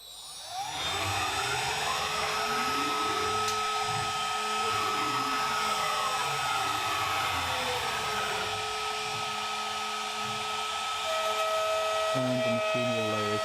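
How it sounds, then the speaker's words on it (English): A CNC mill runs a 45-degree chamfer end mill around the outside of a Mr. Bones Messertrainer prototype part. It makes a steady, loud, continuous whine with a high tone, alone, and a shift in pitch near the end. "the machine will lay a 45-degree chamfer around the outside of the part"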